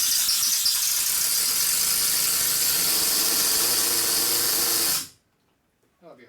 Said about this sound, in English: Okay, so I'm going to jack this thing up and get it out of here.